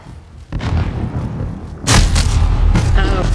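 A grenade going off in a Call of Duty multiplayer match, a heavy booming blast that kicks in midway and rumbles on loudly, preceded by softer in-game gunfire and thuds.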